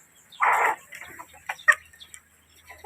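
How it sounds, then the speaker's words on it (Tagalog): A chicken gives a loud squawk followed by a few short, scattered clucks nearby, with quiet pauses between them. "Pagpapakain ng manok."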